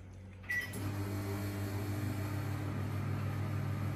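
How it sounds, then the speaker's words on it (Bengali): A microwave oven heating mushrooms starts with a click, then settles into a steady low electrical hum and whir that continues evenly, close and fairly quiet. "মাশরুমটা মোটামুটি আমি মাইক্রোওয়েভে রেডি করে নেব"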